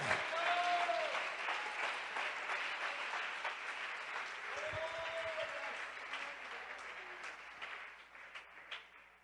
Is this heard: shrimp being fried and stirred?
no